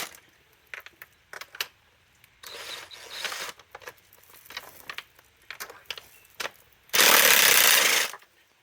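A power tool removes 8mm bolts from the intake of a 2020 Dodge Charger 3.6 V6, with short rattling bursts and clicks, then one loud sustained whir near the end.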